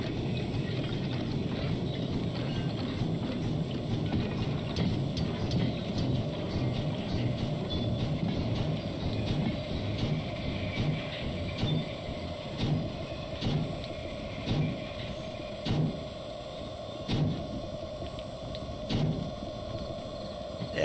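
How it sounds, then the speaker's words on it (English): Steam locomotive from a Minecraft train mod, a 482 class engine, chuffing and clanking with a rhythmic mechanical beat that grows more regular over steady rumbling noise, fairly close and continuous without talk. "there was like a 482 steam locomotive"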